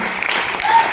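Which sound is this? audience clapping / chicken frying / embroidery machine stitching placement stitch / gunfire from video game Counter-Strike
audience clapping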